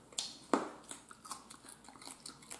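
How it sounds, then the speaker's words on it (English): Close, quiet chewing and crunching on an air-fried chicken wing bone, with a few sharp bites followed by softer irregular mastication sounds over a couple of seconds. "chewing the bone"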